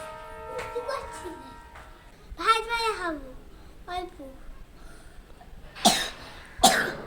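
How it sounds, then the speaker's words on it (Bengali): A child with a cold coughs sharply twice near the end, after stretches of a voice and an adult speaking nearby. "খুব কাশি হয়েছে হ্যাঁ?"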